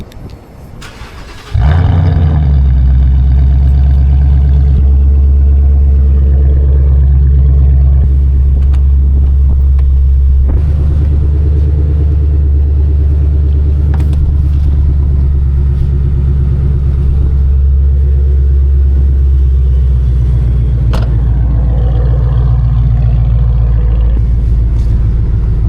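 A blacked-out 500 hp Ford Mustang GT cranks and fires with a sudden loud roar, then settles into a deep, steady idle rumble that holds close and strong, with a brief blip partway through.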